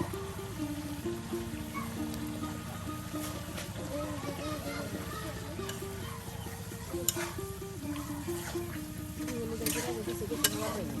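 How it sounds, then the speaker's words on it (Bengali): Beef pieces stir-fried with spices in a pan for a village-style Bengali dish cooked with bottle gourd, giving a steady close sizzle and scraping of stirring throughout, with occasional sharper clinks and a voice talking over it. "মশলার সাথে মাংসগুলো একদম কষানো হচ্ছে"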